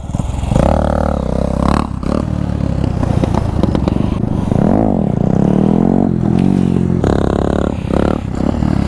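A motorcycle during wheelie practice revs loud and close, its throttle repeatedly rising and falling in surging sweeps, with brief drops between blips and some scraping and clatter.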